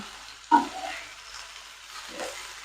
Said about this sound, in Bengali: লম্বা লম্বা ঝিরিঝিরি করে ক্যাপসিকামটাও দিয়ে দিলাম